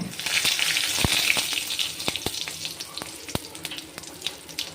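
Whole garam masala spices hit hot oil and fry with a hissing sizzle, scattered sharp crackles and pops popping irregularly, close and fairly loud at first before settling.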